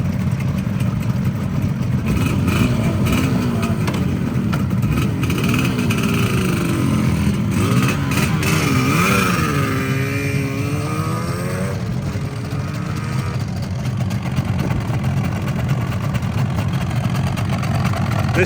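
A Yamaha RD two-stroke motorcycle engine runs close by with a continuous raspy, buzzing drone, its pitch rising and falling as the throttle is blipped in the middle before settling back to a steady idle.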